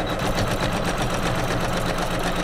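A home sewing machine runs a basting stitch through quilted pillow fabric, a steady close whirring and rapid needle chatter that holds continuously without pause.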